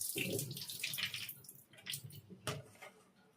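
Tap water runs and splashes irregularly over vegetables being washed for pasta, fairly quiet and close, with gurgling bursts and short pauses.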